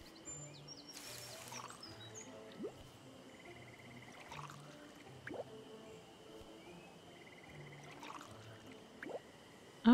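Watering plants in the video game Stranded Sails makes soft drips and splashy pours that recur a few times, with quiet game music tones and faint bird calls beneath and no talking.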